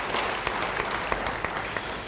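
Church congregation clapping during a sermon, a steady dense patter of many hands with a few sharper individual claps standing out, moderately close, with no speech over it.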